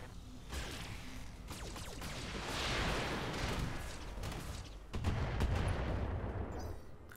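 Mech weapons fire in the video game Roguetech as a string of booming shots and whooshing volleys that swell and fade over several seconds, with a heavier blast cluster near the end.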